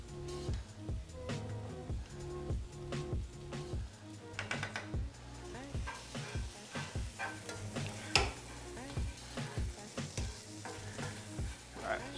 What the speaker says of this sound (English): Stir my pasta.